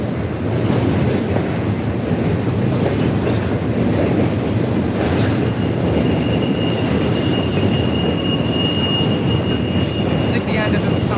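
A locomotive-hauled train rumbles steadily across a bridge, loud and continuous with rolling wheel noise, clickety-clack of rail joints and a thin wheel squeal rising near the end.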